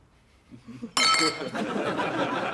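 Glasses clink together in a toast in a Polish TV comedy scene, one bright, loud chime that rings out briefly, followed by faint room sound and murmuring voices.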